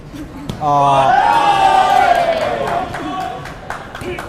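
A boxing-match crowd erupts in a loud, sustained roar of cheering and shouting that swells quickly, then slowly tapers, with a commentator's voice rising over it.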